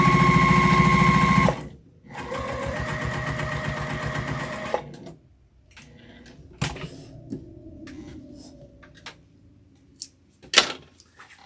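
A sewing machine runs in bursts as it top stitches a tote bag, first a loud steady whir, then a second longer run, followed by scattered clicks and handling knocks of fabric and parts at close range.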